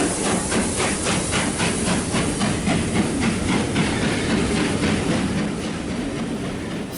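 The steam locomotive Mayflower hauls a mainline rail tour, working hard with a loud, steady hiss of steam over the rhythmic beat of its exhaust, which continues unbroken throughout.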